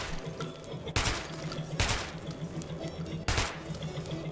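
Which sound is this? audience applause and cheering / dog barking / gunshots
gunshots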